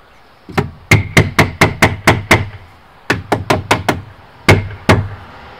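A wooden wedge hammered into the gap of a wooden tub joint, about fifteen sharp knocks in two quick runs of blows followed by two final strikes, close and loud with no talk.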